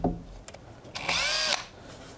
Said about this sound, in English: Actually, I'm gonna drill it out